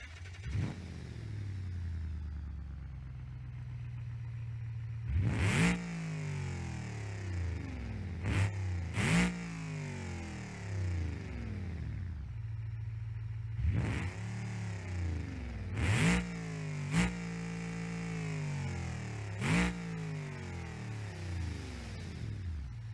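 A cop car's engine in BeamNG.Drive idles low, then revs hard in sharp bursts, rising and falling in pitch several times over a steady rumble, close and loud with no talking.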